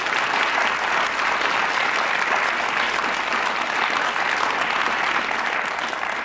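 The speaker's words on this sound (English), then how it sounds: "they deserve another round of applause" Sustained, dense applause from a studio audience for the contestants of a word-and-numbers game show grand final, steady and full throughout with no gaps.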